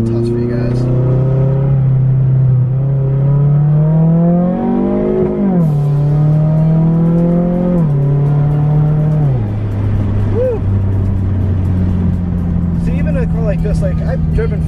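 Car engine revving and accelerating through several gear changes, heard from inside the cabin with the window rolled down, a loud droning tone that climbs, drops and settles, with a voice talking over it.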